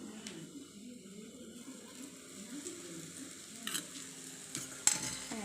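Puda batter sizzling in oil on a griddle, a faint steady frying crackle with occasional scraping and utensil clinks, quiet and close.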